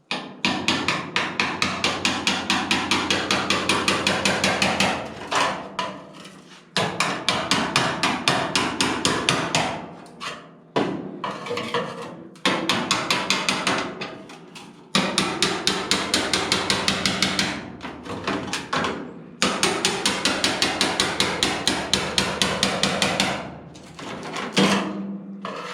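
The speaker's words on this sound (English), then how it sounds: "use my spot weld cutter, get underneath this and knock it off" Rapid, ringing metal hammer blows on a spot weld cutter against a classic Ford Mustang cowl panel, in long bursts, each run of quick strikes broken by short pauses, close and loud.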